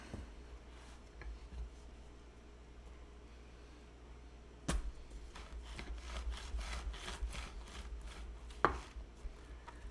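A rolling pin works chocolate croissant dough on a hard counter, giving a quick run of soft, rhythmic rubbing strokes with a couple of sharp knocks. The sound is close but fairly quiet.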